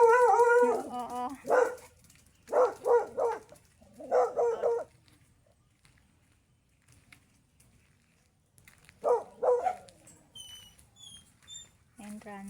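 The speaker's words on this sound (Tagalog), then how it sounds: "Tahol ng tahol si Python." A dog barks repeatedly at a farm entrance gate, loud yelping bursts in several clusters separated by quiet gaps, with a softer bark near the end.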